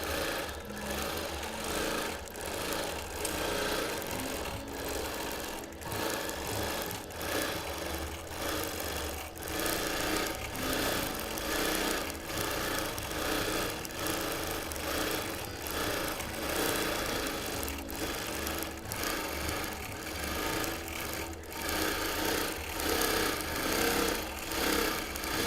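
A stitch-regulated sewing machine free-motion quilts a Christmas table runner, giving a continuous rapid mechanical chatter that speeds and slows slightly, close and steady for a long stretch without speech.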